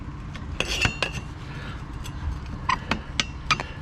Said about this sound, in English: let's see how the hell do we get this wheel off of here